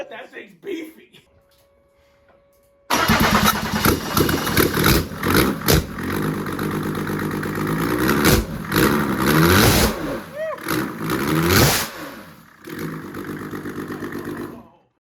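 A diesel 2JZ engine swapped into a Datsun, rated over 600 wheel horsepower, fires up on its first start after a quiet pause, then barks through several loud, aggressive revs and drops back toward idle, close by, with voices around it.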